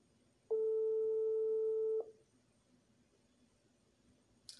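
A single telephone ringback tone sounds once, a steady electronic beep lasting about a second and a half, loud and close against a quiet background.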